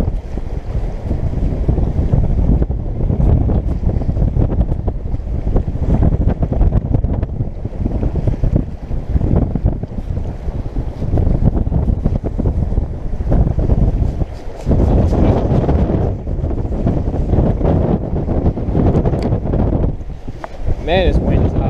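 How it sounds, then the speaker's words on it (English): Strong, steady wind roars and buffets across the microphone at night while fishing for redfish on the water, a constant low rumble that barely lets up, with brief speech in places. "Man, this wind is high."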